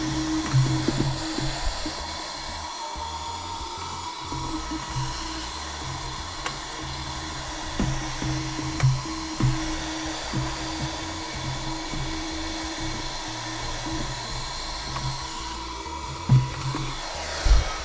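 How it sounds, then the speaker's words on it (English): A Hoover vacuum cleaner drones loudly and continuously throughout, with occasional low thumps as it moves. "So I think I'm done using the Hoover."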